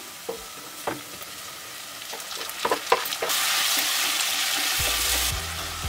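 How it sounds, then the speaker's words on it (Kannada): Chopped tomatoes dropped into a pan of frying onions set off a sudden louder sizzle after a few scrapes and clinks, then a steady frying hiss with a low rumble near the end. "ಇವಾಗ ನಾನು 1-2 ಟೊಮೆಟೊನ ಕಟ್ ಮಾಡಿರೋದು ಹಾಕ್ಕೊಳ್ತಾ ಇದ್ದೀನಿ"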